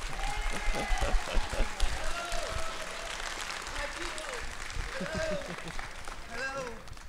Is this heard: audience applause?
yes